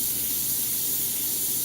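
Paint sprayed very lightly onto a golden sunset ocean painting, a steady soft airy hiss running continuously and fairly close throughout.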